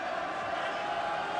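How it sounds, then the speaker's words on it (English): A restless arena crowd at the UFC 7 fight in Buffalo gives off a dense, even roar of many voices, steady and moderately loud across the whole moment. "Crowd getting restless. It doesn't take much for these Buffalo fans to ask for action."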